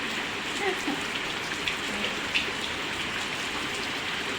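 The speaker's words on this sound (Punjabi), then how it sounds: "ਮੀਂਹ ਆ ਗਿਆ" Steady rain falling outdoors, a dense, even patter of drops on surfaces, close and constant, with a few louder drips standing out.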